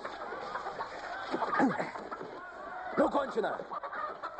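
Roosters cluck close by in short, throaty bursts, mixed with a voice speaking over the birds.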